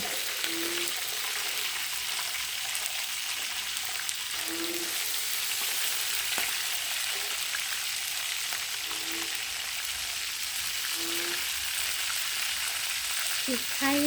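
Chicken drumsticks with black pepper frying in hot oil in Isan-style home cooking, a loud, continuous close sizzle with occasional stirring, lasting the whole stretch without talk.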